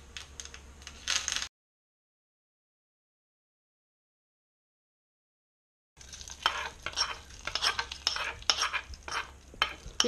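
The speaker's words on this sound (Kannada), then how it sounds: "ಕರಿಬೇವಿನ ಸೊಪ್ಪು ಹಾಕಿ" Curry leaves hit hot tempering oil that already holds popped mustard seeds and urad dal, giving a close, crackling sizzle in two bursts with a silent gap between, the second longer and busier, for a raw mango gojju.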